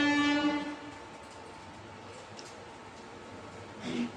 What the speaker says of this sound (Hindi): वो ट्रेन भी आ रही